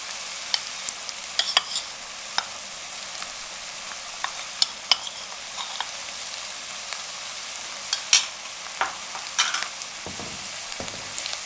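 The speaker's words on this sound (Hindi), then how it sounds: "अब इसको 2 से 3 मिनट के लिए अच्छे से भून लें।" Browned onions frying in oil with garlic and ginger paste, stirred for a fish qorma: a steady close sizzle with scattered crackles and pops and occasional spoon scrapes, no talking.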